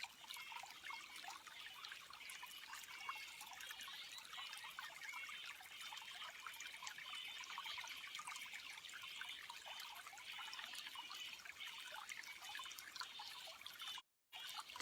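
Steady trickle of water running without pause, a soft continuous bright wash of liquid dribbling and splashing, fairly faint and even throughout with no voices.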